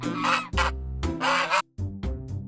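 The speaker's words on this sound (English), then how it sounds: "goose." A goose honks in a series of loud, close, nasal calls, about six in quick succession with brief gaps between them.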